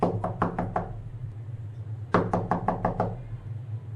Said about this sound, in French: Monk alla frapper à la porte du 709.